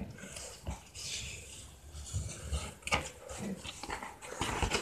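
A dog whimpers and shuffles about indoors, close by, with faint rustling and small irregular movement sounds through a quiet room.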